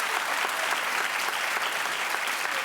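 A studio audience claps in one sustained, even burst of applause, loud and dense, with no speech over it.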